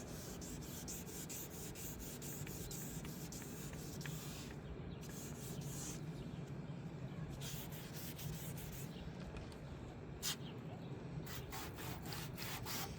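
Soft, steady rubbing of wet sanding on a Honda Civic headlight lens, a continuous low scrubbing with slight variations in pace, fairly quiet and close.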